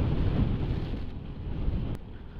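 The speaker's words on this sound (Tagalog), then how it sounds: "Lakas ng hangin." Strong gusting wind buffets a motorcycle rider on the foggy, rainy Marilaque highway in Quezon, a loud continuous low roar with surging gusts and a brief sharp crackle near the end.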